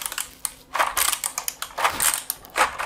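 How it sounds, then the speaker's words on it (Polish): Keys on a Liocat KX 365 CM mechanical keyboard are pressed rapidly together in an anti-ghosting test, giving a dense, close clatter of overlapping clacks in uneven bursts. "Jeszcze jedna ważna rzecz, test anti-ghostingu. Jest to klawiatura mechaniczna"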